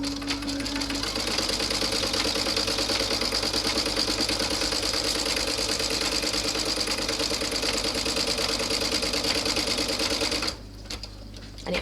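A sewing machine runs steadily while stitching down a satin-stitch wallet pocket, a continuous whirring hum that holds for about ten seconds before cutting off near the end.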